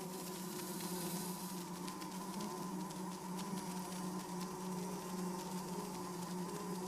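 A honeybee returning to the hive buzzes steadily and close, a continuous droning hum with no pauses and no voices over it.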